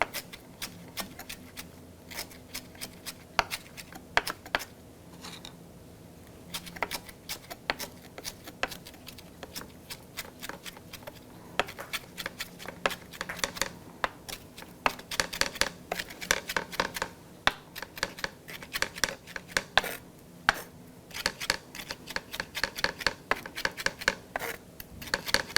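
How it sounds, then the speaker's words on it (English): A knife chops ingredients for shrimp cakes on a cutting board, giving rapid irregular taps and scraping strokes for a sustained stretch, close and moderately quiet. "I'm just going to start chopping."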